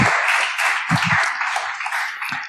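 Congregation applause welcoming the pastor at an evening church service, a broad dense wash of clapping filling the room steadily for a few seconds, with a few low thumps underneath.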